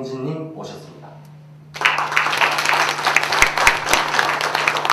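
An audience at an international green climate association ceremony bursts into steady, full applause for introduced guests, following a few seconds of a voice speaking over a low background hum.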